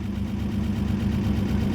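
An older car's engine idles steadily, a loud, continuous low rumble with a slight throb and no revving, heard close and alone for a couple of seconds.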